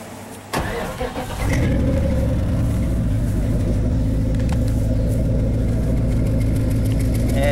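A 1948 Ford F1 mud truck engine cranks briefly, catches and settles into a loud, steady low rumbling idle close by, with no talking.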